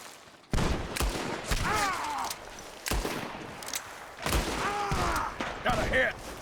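Gunshots in Red Dead Redemption 2, sharp broadband cracks landing in a few separate bursts, loud and near, with in-game character voices speaking between and over them.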